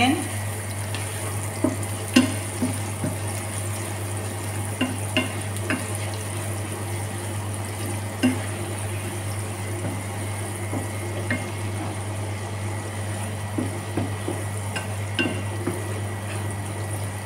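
White onion stirred in a frying pan for beef stroganoff with pasta, a steady low sizzle under scattered clinks and scrapes of the utensil, with a constant hum in the background.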